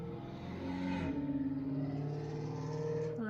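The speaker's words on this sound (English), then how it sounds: "Loud cars. Why do they exist?" A loud car drives past outside, its engine growl rising and falling as it approaches and recedes over a few seconds, heard alone without talk.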